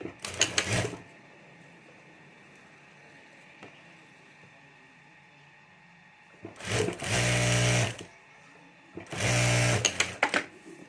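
A sewing machine stitches a fabric strip onto a zip for a pencil pouch, running in three loud, close bursts of rapid mechanical whirring separated by quiet pauses.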